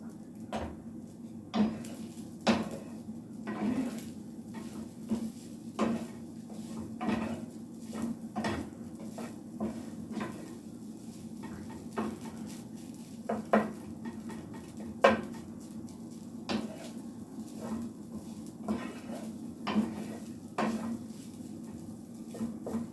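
A spatula scrapes and taps against a pan while clumps of egg fried rice are broken up, giving soft irregular clinks and knocks at a steady working pace, fairly quiet.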